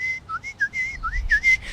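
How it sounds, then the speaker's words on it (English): A person whistles absentmindedly, a short, wandering tune of clear, bright notes sliding up and down, close and alone. "I'll absentmindedly start whistling"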